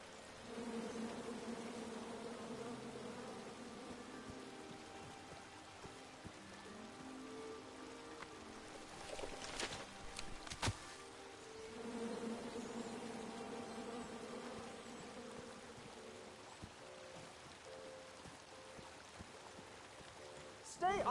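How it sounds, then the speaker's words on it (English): Bees buzzing in the King's Quest video game, a faint droning hum that holds steadily through most of the stretch, with brief clicks in the middle. "Come at me, bees!"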